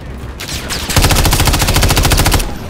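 Rapid automatic gunfire in the video game Call of Duty Modern Warfare 3, a loud, close, continuous burst of evenly spaced shots lasting about a second and a half after a brief lead-in.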